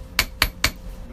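A hammer strikes wire being shaped into beaded hairpins with three light, evenly spaced taps, close and crisp, with quiet between blows.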